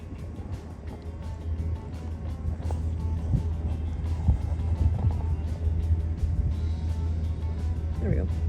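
A truck engine idles steadily with the heater running, a low constant rumble and fan hiss inside the cab during a snowstorm, close and unbroken throughout, with no clear voices.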